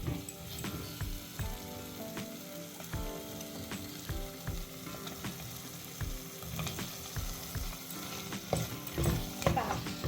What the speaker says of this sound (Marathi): आता ह्यात मी मगाशी जे आपण ओले काजू सोलून घेतले आहेत ते मी ह्यात टाकणार आहे.